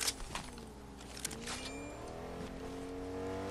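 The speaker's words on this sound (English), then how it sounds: "I think I hear a car" A car drives in the Fortnite video game, its engine humming with rising and falling pitch as it moves, loud and close with no talking over it.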